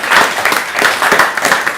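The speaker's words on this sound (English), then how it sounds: "Please clap for him." A classroom of students applauds, a dense steady patter of many hands clapping together, loud and close, lasting a couple of seconds.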